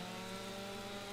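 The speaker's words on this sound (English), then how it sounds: "it's requiring quite a lot of chainsaw" A chainsaw cuts through a tree in the Farming Simulator 25 video game, giving a steady, continuous, loud engine drone with no breaks for the whole stretch and no voices.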